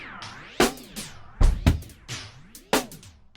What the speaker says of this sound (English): So it's moving our sound up and then down in pitch and then back up again.